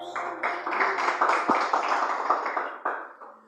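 A church congregation claps for Jesus during a Portuguese-language worship service: a steady wash of many hands clapping together for several seconds, swelling and then tapering off near the end.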